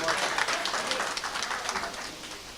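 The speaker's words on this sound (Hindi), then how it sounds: "एक बार मैं चाहूँगी कि आपके लिए ताली बजाई जाए।" Audience applause at a mushaira poetry gathering in a marriage hall in Bhiwandi, a dense sustained clatter of many hands clapping from a crowd, steady and fairly loud throughout.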